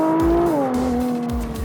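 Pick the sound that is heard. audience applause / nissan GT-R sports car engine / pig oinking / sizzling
nissan GT-R sports car engine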